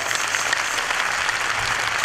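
A crowd at a katha religious gathering in Keshod, Junagadh applauds host families with dense, continuous clapping that fills the space throughout.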